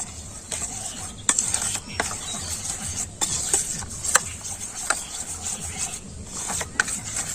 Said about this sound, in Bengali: আমি এখানে দুধ দিয়ে আমি সুজিটা ভালো করে মেখে নেব